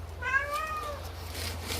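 A cat gives a single drawn-out meow, close and clear, over a steady low hum with faint outdoor background noise and no talking.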